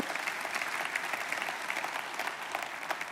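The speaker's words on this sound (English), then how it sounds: "Yeah, we can clap." A church congregation claps during a women's series service, a soft, even patter of many hands sustained from start to finish, heard from some distance.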